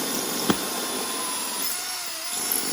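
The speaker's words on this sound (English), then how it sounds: "So I'm gonna drill right here. This is a hammer drill, but I don't wanna use the hammer feature" A hammer drill runs with its hammer feature off, boring into a hollow travertine floor tile, giving a steady high-pitched whine with a brief knock near the start.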